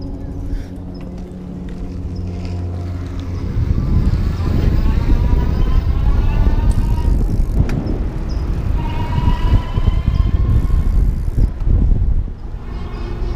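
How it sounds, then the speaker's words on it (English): Electric bike motor of an E-Glide ST at its highest assist level, a rising, whining hum under steady rolling and wind noise, growing louder and busier partway through as the bike picks up speed. "I'm in the highest level of assist, and that's designed to show you how zippy it is and what the motor sounds like"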